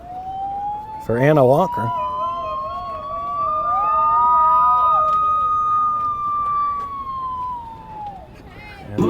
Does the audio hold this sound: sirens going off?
yes